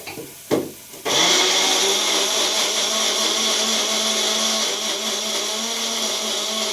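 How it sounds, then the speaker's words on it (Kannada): A mixer grinder grinds ingredients for a home-cooked dish, starting after a short thump and settling into a loud, steady whirring drone that runs continuously to the end. "ಇದು ಫ್ರೈ ಆಗೋಷ್ಟರಲ್ಲಿ ಇದನ್ನು ರುಬ್ಕೊಂಬೋಣ."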